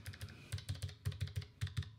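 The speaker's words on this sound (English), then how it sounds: "it uses a blue key, and they're fairly clicky" Keychron K1 mechanical keyboard with clicky blue switches being typed on, a steady run of sharp, close clicks in an uneven typing rhythm with no voices.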